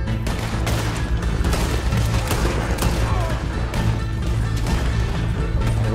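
Gunfire in the Red Dead Redemption 2 video game during an exotic animal hunt, with repeated sharp shots and crashes over a loud, busy game soundscape with steady background music.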